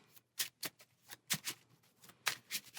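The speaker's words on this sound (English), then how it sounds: "shuffling our encounter deck" A deck of cards for Marvel Champions, a card game, shuffled by hand close up and quietly, in a series of short riffling bursts with brief pauses between them.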